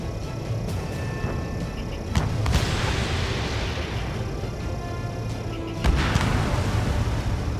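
Missile launches in the Ace Combat 7 flight game, two sharp whooshing bursts about three seconds apart over a constant roaring jet-engine drone, loud and close.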